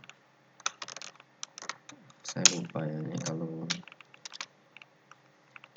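Scattered clicks and short bursts of typing on a computer keyboard, close and crisp, pause while a person speaks briefly in the middle, then resume.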